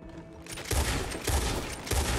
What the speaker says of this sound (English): why are the people shooting?